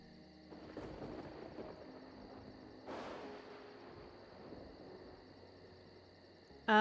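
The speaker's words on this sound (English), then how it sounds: "Crickets." Crickets chirp quietly in an ambient night scene of the science-fiction puzzle game Obduction, a faint steady high trill over soft low game ambience with a brief swell midway and a small bump at the end.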